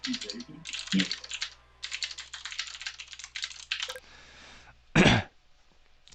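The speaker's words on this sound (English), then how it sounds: "Sorry for my loud keyboard" Rapid clacking of a loud computer keyboard in bursts during a racing league stream, close and dry, with a couple of brief low vocal sounds and a short louder thump near the end.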